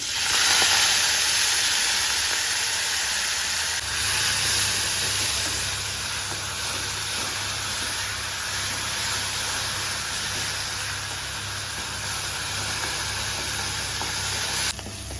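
Finely chopped fenugreek leaves fry in hot oil with a steady, even hiss and sizzle that holds for a long stretch, close and constant, no talking.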